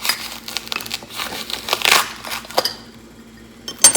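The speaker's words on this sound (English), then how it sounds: "I'm gonna probably have to cut this styrofoam to get it" Styrofoam packaging being cut and pulled out of a plant pot: close, irregular crunching and crinkling squeaks in uneven bursts, with a short quiet gap before a final crackle.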